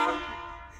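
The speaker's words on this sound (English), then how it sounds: "He had a train horn on it." A single loud horn blast starts abruptly and fades over less than a second, rich in harmonic tones, with no talking.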